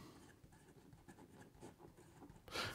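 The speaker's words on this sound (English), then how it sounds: "Here we go with the writing sample for the Esterbrook." An Esterbrook Estie Scarlet Oversize fountain pen with a medium stainless steel nib writes on paper, giving soft, faint scratchy strokes close up, ending in a louder brief rustle.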